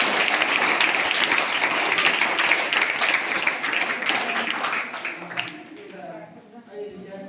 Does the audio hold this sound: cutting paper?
no